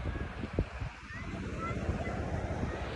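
Steady wind noise and low wash of surf at a quiet off-season California beach, a constant broadband rush with a few low thumps from the wind on the microphone, no talking heard.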